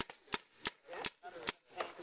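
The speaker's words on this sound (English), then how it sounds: "No, this is Wilson blasting gun." A paintball gun fires a series of about six sharp pops at a quick irregular pace, close but fairly faint, on an outdoor paintball field.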